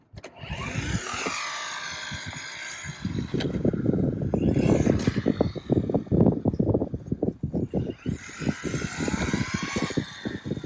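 MJX Hyper Go 14302 rally-style RC car on high-grip tires, driven at 70% throttle: a loud, continuous whining electric motor with rapid rattling, surging and easing as it accelerates, no talking.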